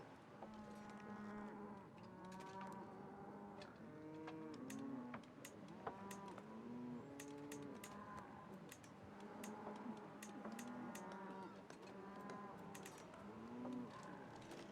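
Cows in the Crusader Kings 3 strategy game mooing over and over, overlapping low bellows from a herd with soft ticking clicks underneath, steady and moderately loud throughout.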